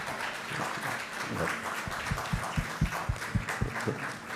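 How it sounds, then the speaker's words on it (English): An audience's applause following an oration at a medical talk on ICU care, with individual claps growing clearer and more rhythmic over a soft crowd murmur, moderately quiet. "round of applause for an excellent oration."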